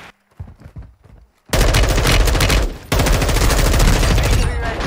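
Gunfire in Call of Duty Warzone: after quiet scattered sounds, a loud, sustained burst of rapid automatic shots erupts close by, breaks off briefly, then resumes with steady heavy firing to the end.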